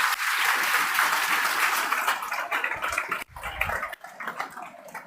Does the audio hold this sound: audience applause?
yes